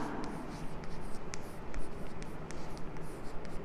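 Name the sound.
pen writing on paper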